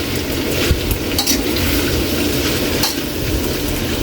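Pork with lemongrass sautés in its own rendered fat, a loud, continuous close sizzle with bubbling crackle and a few clinks of a utensil against the pan, and no talking.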